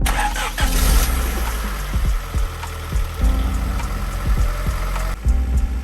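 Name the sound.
car engine starting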